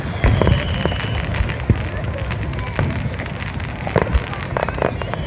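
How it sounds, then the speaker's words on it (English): Fourth of July fireworks at Brighton Beach crackle and pop continuously at a distance, including crackler shells, with sharper bangs scattered throughout and faint voices underneath. "Nice to pop out for fireworks from time to time."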